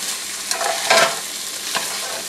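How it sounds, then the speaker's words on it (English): Corn with bacon fries in a pan, giving a steady hiss of sizzling with a few louder stirring scrapes and pops, close and moderately loud with no talking. "we're just going to fry this corn up until it gets done"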